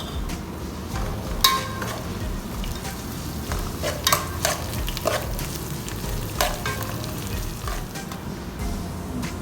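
Onion, chili and garlic frying and being stirred in a pan, a constant sizzle broken by repeated scraping and clattering strokes of a spoon.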